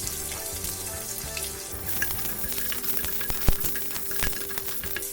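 Cumin seeds and onions sizzle in hot oil in a pan, a steady close crackling fry with small spikes of stirring and pops throughout, no talking.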